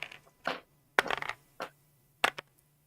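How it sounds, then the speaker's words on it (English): Plastic 3D printer filament spool dropped onto a desk, giving a few separate hollow knocks and clattering bumps spaced through the clip, with quiet pauses between them. "when you drop it on a desk, it makes this weird different sound, like different noise of plastic."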